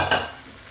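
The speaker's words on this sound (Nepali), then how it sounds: "यो फ्राई गरेको चिकन म लाउँदैछु।" Fried chicken pieces dropped into a simmering gravy give a brief burst of sizzle and stirring that fades quickly into a soft bubbling, close and alone.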